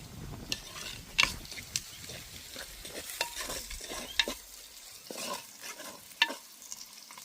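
Pond fish curry cooking in a clay pot outdoors in a garden, with a soft sizzle and repeated scraping stirs of a spoon against the pot, close and moderately quiet.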